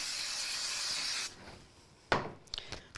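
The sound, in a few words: quick spray onto card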